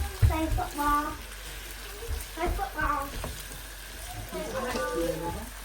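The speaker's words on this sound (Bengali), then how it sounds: "এদিকে কলিজা রান্না করার দায়িত্ব পড়েছে আমার কাটাকাটি করে একটু ফ্রাই করে নিচ্ছি" Liver, boiled first, frying in a pan with a soft, intermittent sizzle and stirring scrapes, fairly quiet, with voices talking over it.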